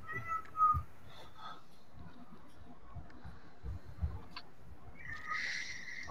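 A cat meows several times during a tabletop game session, short faint mewing calls spread across a quiet room background with occasional soft knocks.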